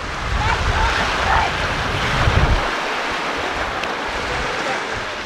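Wind gusts across a lakeside beach with a steady, rough rumble and hiss that swells in the middle and then settles, along with soft lapping water.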